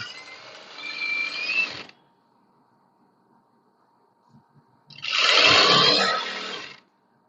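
A sewing machine stitches lace onto a kameez in two runs, a whirring mechanical burst of about two seconds, a quiet pause with faint handling, then a louder, longer stitching run.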